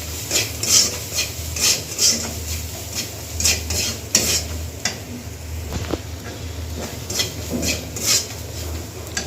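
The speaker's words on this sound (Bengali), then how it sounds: "এবার মশলাটাকে ভালো করে একটু ভেজে নেব।" Ground coriander and cumin being fried in a pan, with steady scraping and clinking of a spoon against the metal over a low background, sharp stirring strokes repeating throughout.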